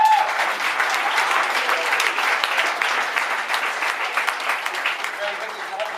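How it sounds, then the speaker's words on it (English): A large audience at a country presentation on Armenia claps for a speaker in a dense, steady round of applause that holds for the whole stretch, with no voices on top. "One more round of applause."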